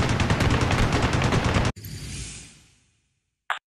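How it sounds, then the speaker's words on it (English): Heavy sustained machine-gun fire in the Xbox 360 game Ace Combat: Assault Horizon, a loud rapid continuous burst that cuts off abruptly into a fading rumble, then a brief sharp sound at the end. "Heavy fire coming back at us."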